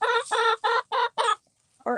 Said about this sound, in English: come to you live from the chicken run in case anybody had any questions about chicken keeping